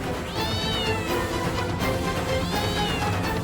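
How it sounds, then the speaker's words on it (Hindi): A cat hidden under a bed meows twice, with a gap of about two seconds between the calls, against a faint room background. "ये बिल्ली पलंग के नीचे घुसकर क्या कर रही है?"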